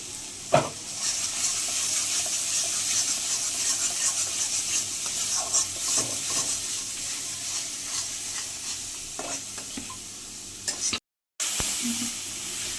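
Ground cumin, coriander and chili powder masala fries in a pan for a light chicken curry, a continuous close sizzle with occasional spoon scrapes and taps while it is stirred, briefly cutting out near the end.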